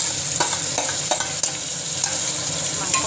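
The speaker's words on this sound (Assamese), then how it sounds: "এতিয়া মই এইফালে মাংসখিনি দি দিলোঁ ইয়াত তেল বেছিকৈ দিছিলোঁ" Mutton pieces frying in plenty of oil for biryani, a loud close sizzle broken by several sharp stirring scrapes and bursts of spattering.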